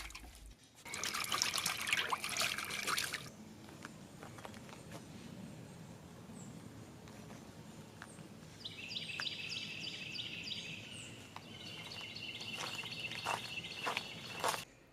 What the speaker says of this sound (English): I knew I was going to be hand washing it separately anyways